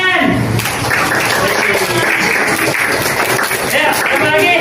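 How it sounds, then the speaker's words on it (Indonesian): A class of students clap hands together in a classroom lesson on good behaviour toward parents and teachers. The clapping is dense and continuous, mixed with children's voices throughout. "Tepuk tangan."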